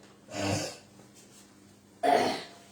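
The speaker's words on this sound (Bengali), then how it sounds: "আজকে যেন দাদা বেশি কাশছে" An elderly man coughs twice, a harsh throaty cough followed after a pause by a second, louder one, close by with no talking.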